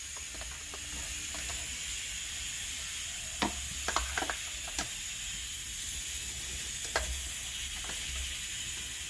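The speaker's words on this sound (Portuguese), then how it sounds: "Tá cozinhando, a panela de pressão." A pressure cooker cooking beans with ribs hisses steadily with a constant steamy rush, joined by a few light clinks and taps partway through.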